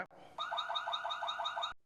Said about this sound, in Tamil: அப்புறம் பார்த்தீங்கன்னா அலாரம் வச்சுருக்குறாங்க